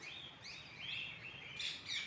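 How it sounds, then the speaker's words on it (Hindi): A green parrot at the Gwalior zoo gives repeated sharp chirping calls, moderately close, in a steady sequence of short notes against a quiet enclosure background. "ये तो तोता है"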